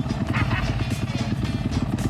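Enduro motorcycles racing across the sand at the Enduropale beach race in Le Touquet, a pulsing, rhythmic engine drone at moderate distance with some clatter. Faint voices can be heard in the background.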